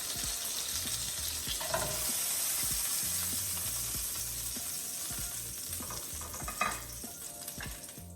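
Pork chops fry in a skillet with a steady, fairly loud sizzle and crackle throughout, plus a few brief clinks and scrapes as they are handled and lifted out.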